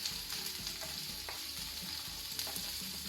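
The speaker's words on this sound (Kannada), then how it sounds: "ಇದೀಗ ಸರಿ ಗೋಲ್ಡನ್ ಬ್ರೌನ್ ಆಗಬೇಕು, ಆನಿಯನ್ ಸರಿ ಫ್ರೈ ಆಗಲಿ." Onions and curry leaves fry with a steady, close sizzle in a pan while a spoon stirs them with soft scrapes for a few seconds, and no voices are heard.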